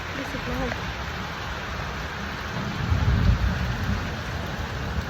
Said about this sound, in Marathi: एवढा पाऊस झालाय